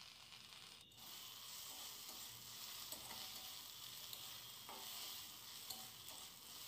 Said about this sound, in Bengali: একটু নরম নরম করেই কিন্তু আমি পেঁয়াজকলিগুলো